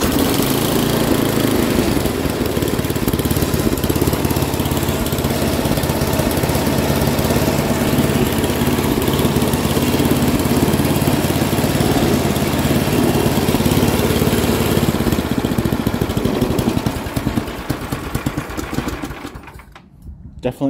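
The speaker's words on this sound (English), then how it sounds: "I've never tried to start it." A Craftsman 10/30 snowblower's small engine runs loudly and steadily right after its first start, with a rapid buzzing chug. It slows and sputters toward the end before dying out, and someone talks over it.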